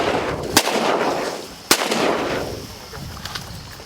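Shotgun shots fired during a public-land teal duck hunt in Kansas, two sharp loud reports about a second apart, each echoing across open marsh over a steady wind rumble.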